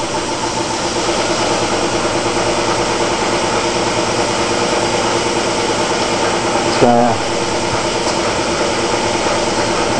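A steady, loud rush of compressed air hissing into a motorcycle tire, continuous throughout, with a brief spoken word partway through.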